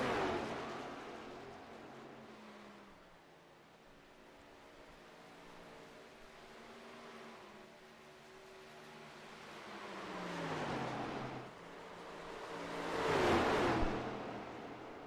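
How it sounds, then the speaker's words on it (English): Race trucks running at Darlington, a Great Lakes Truck Series event, easing off the pace; low engine drone with shifting tones that dips, then swells again as trucks pass close near the end. "You can just hear how much these trucks have slowed down now."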